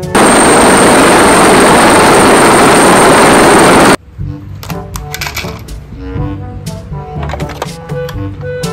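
A loud, dense whirring rattle of a toy helicopter runs steadily for about four seconds, then cuts off into quieter clattering and scattered knocks.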